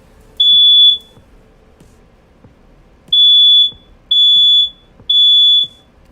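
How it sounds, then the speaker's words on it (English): A fire alarm sounds in loud, piercing electronic beeps, one long tone followed after a pause by three more in quick succession, with low background noise and no talk. "That sounds like a fire alarm."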